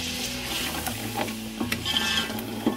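Meat browning in a pot with ginger and garlic paste for nihari gives a soft, steady sizzle, with occasional spoon scrapes and clinks against the pan, fairly quiet and close.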